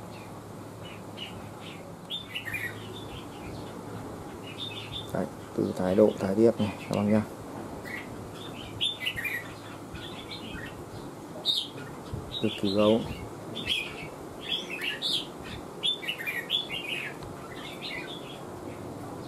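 Small birds chirp and tweet intermittently through hot, sunny weather, faint and scattered in the upper register, while someone talks over them throughout.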